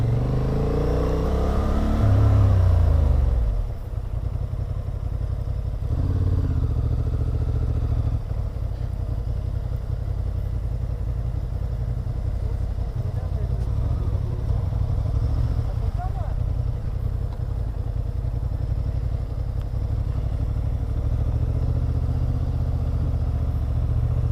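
A Honda Hornet motorcycle engine rumbles steadily at close range during a riding-test course, opening with a rising rev before settling into a constant drone, with a voice talking over it.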